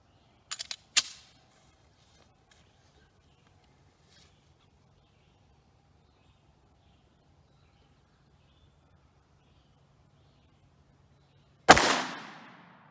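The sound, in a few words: gunshots firing .40 165 gr Hornady Critical Defense ammunition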